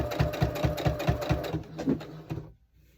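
A sewing machine stitches coasters in a quick, even run of needle thumps that slows near the end and then stops abruptly, leaving near silence. The sound is close, with no voices.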